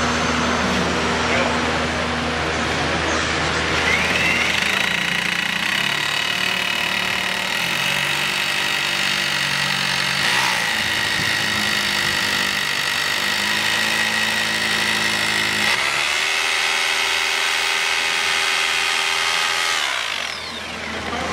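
Concrete drill boring a hole into the base of a concrete pad for an oven dome, a loud continuous whining drone held for about twenty seconds with slight shifts in pitch.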